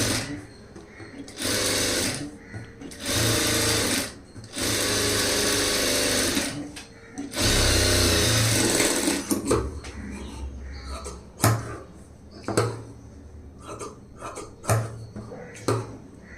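A sewing machine runs in several bursts of steady whirring, stitching lining cloth to a blouse, with short pauses and small clicks and knocks of handling between runs. Nearby and fairly loud.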